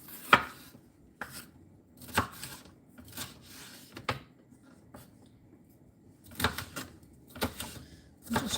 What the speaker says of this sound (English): I'm just chopping up the peppers into small pieces.